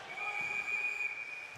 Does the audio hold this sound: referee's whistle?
yes